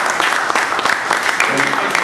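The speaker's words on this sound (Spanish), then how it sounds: "Pide un aplauso para Joaquín" Audience applause for Joaquín at a book presentation on the history of La Huasteca Tamaulipeca, a dense, loud patter of many hands clapping continuously for a couple of seconds.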